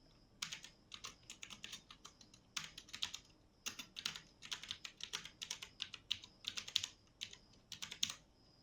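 Someone typing a command on a computer keyboard, a quiet close-up run of uneven key clicks in short bursts with brief pauses, no voice.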